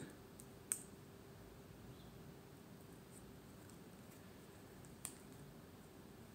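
A Rambler Swiss Army knife with its scales removed has its small scissors flicked open one-handed with the ring finger, giving two faint, sharp clicks several seconds apart in a very quiet room.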